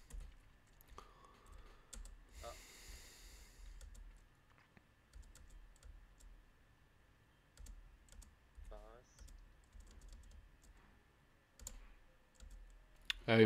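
Rapid clicking keystrokes on an English-layout computer keyboard in uneven bursts, close and fairly quiet, with a few brief game beeps and electronic tones mixed in.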